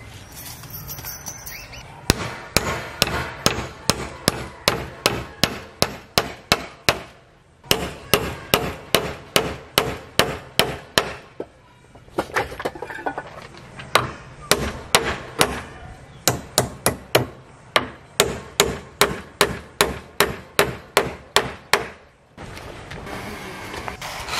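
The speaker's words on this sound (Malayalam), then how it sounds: "ആ സ്പേസിൽ ഒരു പട്ടിക കട്ട് ചെയ്ത് ആണി അടിക്കുക" Nails being hammered into wooden planks while building a wooden chicken cage: close, sharp strikes in fast, steady runs, broken into several bursts by short pauses, with no talking.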